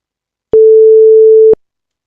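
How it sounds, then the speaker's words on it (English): A synthesized 440 Hz sine wave from a C# audio synthesizer sounds as a single steady pure tone lasting about one second. It starts and stops abruptly with small clicks, and silence surrounds it. "It's playing the same sound at the frequency of 440. Just a sine wave."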